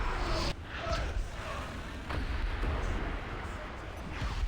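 Tank cannon blasts in a World War-style tank game, Italian OF-40 Mk2 at rank eight, with booming broadband bursts over a constant low rumble, a strong shot near the start and further firing and impacts through the clip.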